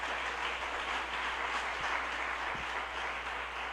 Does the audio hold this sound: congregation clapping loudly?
yes